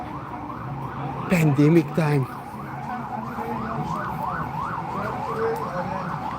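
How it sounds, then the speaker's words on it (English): A wailing ambulance siren rises and falls repeatedly on a New York street at night, loud and close, as someone speaks briefly over it early on. "So you hear all the sirens."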